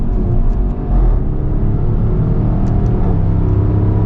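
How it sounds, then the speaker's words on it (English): A 2020 Range Rover Sport HSE Dynamic accelerates hard on a highway, heard from inside the cabin as a deep, loud, continuous engine rumble and drone that holds steady throughout, with no talk. "we are going to get our highway acceleration here"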